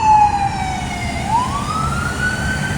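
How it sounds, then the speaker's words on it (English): A wailing siren holds steady, then sweeps upward, loud and close, over a rumbling road-traffic background. "there's an ambulance passing by"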